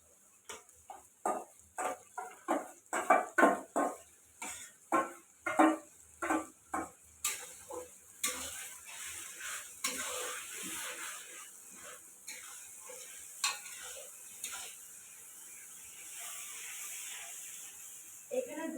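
Chicken being stirred in a pan with spices for a rooftop family cooking session, a steady run of rhythmic scraping stirs over a gentle sizzle, followed by continuous frying hiss with occasional clinks.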